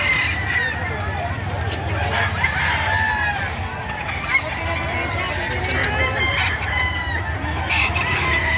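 Roosters cluck and crow at a busy chicken market in Padre Garcia, Batangas, with repeated crows over constant crowd noise and talk.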